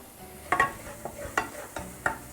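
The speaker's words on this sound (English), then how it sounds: "So let it sizzle there for a little bit." Garlic frying in oil in a pan, a soft sizzle underneath with several sharp scraping stirs and taps at irregular intervals.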